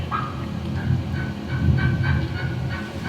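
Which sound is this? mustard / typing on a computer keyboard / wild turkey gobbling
wild turkey gobbling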